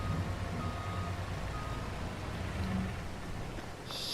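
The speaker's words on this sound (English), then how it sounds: "We can't just not do anything in the rain." Steady rain falling in the Farming Simulator 22 game world, a constant soft hiss over a low engine-like rumble, even and moderately faint throughout.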